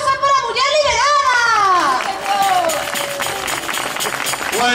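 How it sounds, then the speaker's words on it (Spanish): Clapping and crowd noise at an outdoor carnival wedding performance, with lively voices and a singing, shouting crowd layered over scattered applause that thickens toward the end. "un aplauso para a muller liberada"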